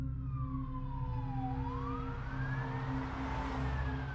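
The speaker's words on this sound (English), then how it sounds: "fire trucks roared down the street with their sirens wailing" A fire truck siren wails steadily down a street, its pitch sliding down then rising again, loud and continuous over a low rumbling engine drone.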